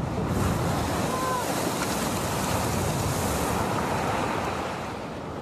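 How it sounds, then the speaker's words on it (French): Stormy sea at the foot of the Étretat cliffs during storm Ciara: waves crash violently on the rocks in a continuous loud roar, with wind buffeting the microphone and a slight easing at the end. "la mer vient violemment se fracasser sur les rochers"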